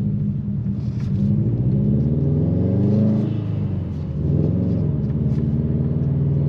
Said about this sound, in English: You can hear that blow off valve and exhaust, which does sound awesome.